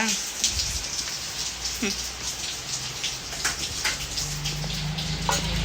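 Rain falling outdoors around an evening cooking spot, a steady soft patter with scattered drops, fairly faint, with occasional voices and clatter underneath.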